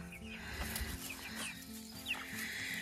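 Chickens in a home garden on a hot day cluck softly and intermittently at close range, with a few brief higher calls over a low background hum and no speech.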